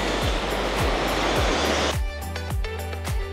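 Seaside waves roll and wash along Boracay beach as a steady, loud surf roar for about two seconds before giving way to music.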